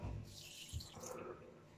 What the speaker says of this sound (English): we put it in, simply dab it up and down, so we know that every bit of water gets onto the brush there